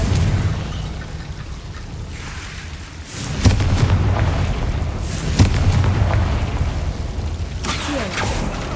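Confringo fire spell explosions in Hogwarts Legacy, with several sharp booming bursts over a steady low rumble of combat noise; a loud hit lands near the middle and further blasts follow.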